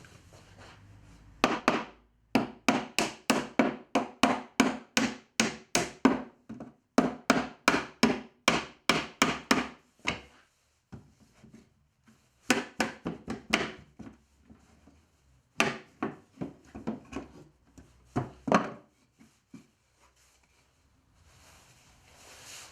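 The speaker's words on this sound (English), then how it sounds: "knock these nails out that I've left here sticking out, get my claw hammer, pull those out" Repeated sharp knocks of a claw hammer against nails in wooden boat-shaped supports, landing in fast bursts of a dozen or so blows separated by brief pauses, close and loud with no talking.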